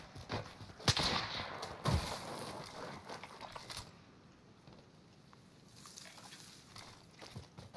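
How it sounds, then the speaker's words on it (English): Sniper rifle shots in the Warzone battle royale video game, two sharp loud cracks about a second apart followed by fainter scattered shots and movement noise. "That was a sniper trying to shoot us."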